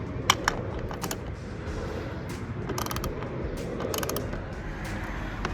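A ratchet loosening the rear seat bolts on a car, short bursts of rapid clicking repeated several times against a quiet background.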